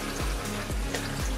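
Water gushes and splashes from a leaking PC water cooling loop, a short continuous watery rush with a few swelling surges, fairly close and without talk.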